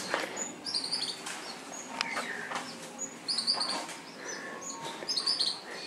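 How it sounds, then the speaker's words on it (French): Several birds chirp and tweet in short bursts against a quiet Martinique countryside background, some calls nearer, others more distant. "Alors vous entendez les oiseaux, c'est super calme."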